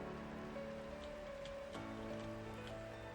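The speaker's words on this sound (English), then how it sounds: "it's just a normal bout of rain" Steady rain falls in the Minecraft video game, a continuous soft hiss of drops with faint tonal game sounds running beneath it, even and unbroken throughout.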